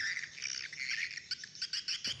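Recorded swiftlet calls play from a loudspeaker system on a walled swiftlet house with holes for the birds, a dense stream of high chirps and twittering that turns into quick repeated bursts toward the end.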